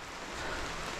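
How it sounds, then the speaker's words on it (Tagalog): Steady broadband hiss of rain falling on a rural road in General Nakar, Quezon, heard during a bike ride, continuous and fairly faint with no other clear sounds. "eto umuulan na"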